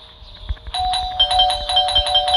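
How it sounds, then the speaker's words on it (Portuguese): A doorbell rings in the video game Scary Teacher, its chiming tones starting after a brief lead-in and repeating steadily to the end, clear and close. "Toquei a campainha."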